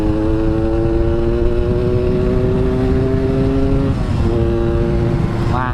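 A Yamaha RX King two-stroke motorcycle, a 2004 King Royal, idles high with a loud, steady buzzing drone close by, dips briefly, then revs up sharply at the end.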